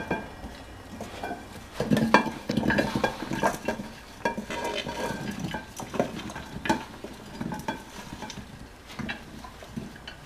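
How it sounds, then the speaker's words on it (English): Apple mixture is scraped and stirred into a baking pan, with repeated close utensil scrapes, soft clinks and wet stirring sounds in an irregular rhythm. "Now I just put it into my my baking pan."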